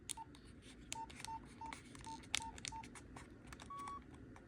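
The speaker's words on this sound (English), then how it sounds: "Let's take a listen to the button noises." Short electronic keypad beeps from an old mobile phone, a string of about seven evenly spaced pressed-button tones followed by one longer tone, quiet and close with faint handling clicks and no talking.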